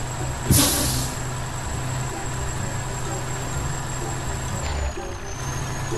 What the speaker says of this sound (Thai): นี่นะครับเบรกลมนะฮะ อย่างลั่นอ่ะเบรกลมนึกว่าเสียงท่ออ่ะเออ